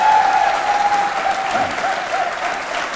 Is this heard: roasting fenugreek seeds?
no